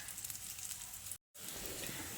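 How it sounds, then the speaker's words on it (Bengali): Beetroot kebabs frying in a pan over a medium gas flame, a steady close sizzle filling the clip, broken by a brief total silence midway before the frying resumes. "এইভাবে উল্টে পাল্টে কাবাবগুলোকে সুন্দর করে ভেজে নিতে হবে"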